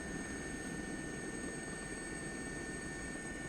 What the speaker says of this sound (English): Now we're just approaching Tower Bridge, so I'm going to slow the helicopter down now.